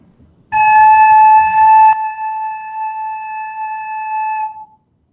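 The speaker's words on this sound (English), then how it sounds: "The A should sound like this." A recorder sounds a single sustained A, a pure steady tone held for about four seconds after a brief breathy onset, fairly loud and alone with no talking.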